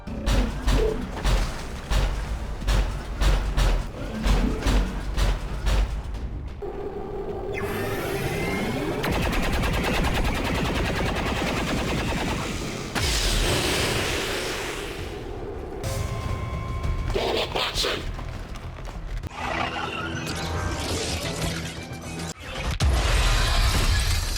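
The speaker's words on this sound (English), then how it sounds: "the best sound effects are the ones with robotic sounds and the future tech weapons" Futuristic weapon fire and robotic mechanical effects from the XCOM 2 strategy game, a run of sharp repeated shots followed by whirring, shattering and synthetic sweeps that shift in texture, all loud and up close with no talk.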